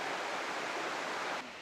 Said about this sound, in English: See the chain of waterfalls that they have.